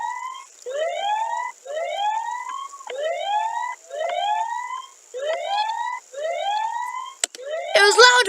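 A police alarm siren sounds loud and near, repeating a rising wail about eight times in an even rhythm over a steady high tone. A sharp electronic burst comes at the end.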